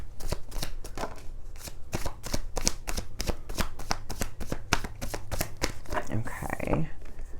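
A deck of tarot cards is shuffled in a rapid run of crisp riffling flicks close by, while someone talks over it.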